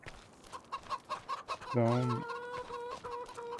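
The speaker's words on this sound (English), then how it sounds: "I may move these chickens to a non-modded large chicken house right next to the dairy." Chickens in Farming Simulator 25 cluck in a quick series of short, evenly spaced calls, then one longer, louder squawk before the clucking continues. A voice briefly speaks over them.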